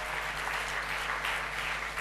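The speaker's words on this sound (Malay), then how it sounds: "Oh, satu tepukan untuk yang berbahagia, Datuk Ahmad Faiz" Audience applause at a university student council convention: a steady, even wash of clapping from a crowd, moderately distant over a low hum, with no voices over it.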